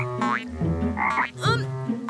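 A cartoon frog from Everything's Rosie croaks at a quiet fishing spot, giving a few loud, bouncy, springy croaks with rising sweeps in quick succession.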